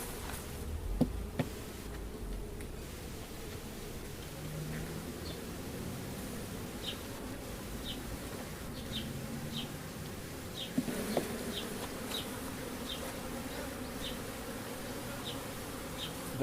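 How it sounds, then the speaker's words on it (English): Honeybees buzz steadily through a hive inspection for American foul brood before harvest, with a low continuous drone and small bursts as frames are handled and bees are brushed off, fairly close and with no talk. "Don't have to get every last bee off."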